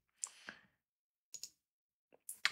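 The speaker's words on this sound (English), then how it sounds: "I'm going to right click and say new legend." A computer mouse gives a few short, crisp clicks, separated by silence, in a quiet room.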